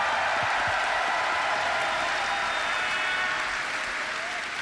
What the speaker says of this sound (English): please, one more round of applause for the amazing sound team